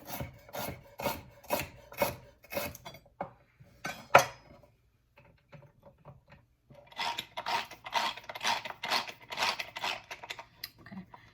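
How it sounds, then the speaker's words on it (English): A knife roughly chopping ginger on a board, a quick run of sharp rhythmic strikes, a pause with sparse taps, then another steady flurry of close chopping, no talking. "And ginger, I'm just going to roughly chop it."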